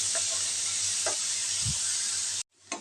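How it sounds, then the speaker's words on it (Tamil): Onions sautéing in a pan, a steady close sizzling hiss with a few stirring scrapes, cutting off abruptly before a brief return of sizzle. "இப்போ பாருங்கள், வெங்காயம் ஓரளவுக்கு வதங்கிருச்சு."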